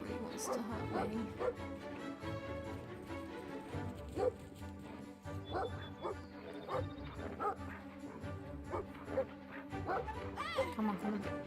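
A dog barks and whimpers in the video game Brothers: A Tale of Two Sons, with repeated sharp barks and yips over a steady game soundtrack, while someone talks over it throughout.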